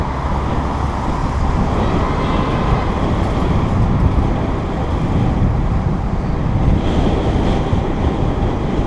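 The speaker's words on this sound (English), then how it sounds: "A little windy" Steady, loud wind buffets the microphone while cycling through city traffic in Harbin, China, a constant broadband roar with road noise blended underneath.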